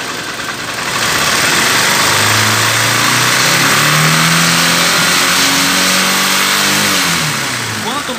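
Honda CG 150 Titan motorcycle engine revving up during a battery charging test, a loud sustained rise and fall of engine tone lasting several seconds, close by, with a voice speaking partly over it.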